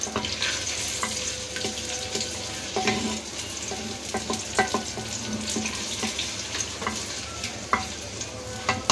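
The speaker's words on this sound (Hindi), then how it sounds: "साथ ही मैं अपनी इसमें प्याज डाल दूंगी, और इसको गोल्डन ब्राउन होने तक मैं फ्राई करूंगी" Onions fry in hot ghee in a pan with a continuous, moderately loud sizzle and crackle, broken by stirring clicks and scrapes, with no talking.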